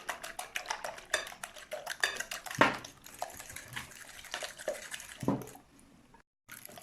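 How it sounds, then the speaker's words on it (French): Ingredients for a tuber side dish are stirred and mixed in a bowl, with a utensil clinking and scraping against it in quick repeated strokes and a few louder knocks, before everything goes quiet at the end. "Maintenant, je vais mélanger tout ça."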